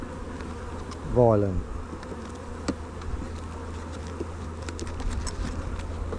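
Honey bees hum in a steady, dense drone at a hive after a Demaree split, with a brief rising whine near the start and a few short voiced words.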